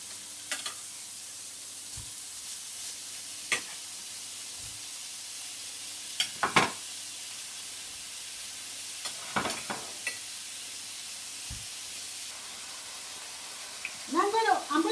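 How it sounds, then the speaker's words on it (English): Burger meat fries in a little hot oil with a low, steady sizzle, broken by scattered clinks and scrapes of a utensil stirring in the pan. "You can see now I'm going to cook my mixed meat, my burger's meat. It's hot. You can see I have just little oil on it."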